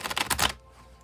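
A deck of tarot cards being shuffled close by, a quick rapid riffle of papery flicks lasting about half a second before it stops into quiet.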